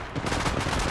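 A loud, continuous burst of rapid automatic gunfire from the Apex Legends video game, dense and close, with no talk over it.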